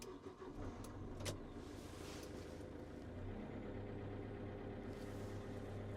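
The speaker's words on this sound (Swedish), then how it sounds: "Så vi startar upp vår maskin." A Vimek 470 H50 forestry machine powering up, with a low steady motor hum and a brief electric whine, then a couple of clicks and a faint rising whirr, heard nearby and quiet with no talk.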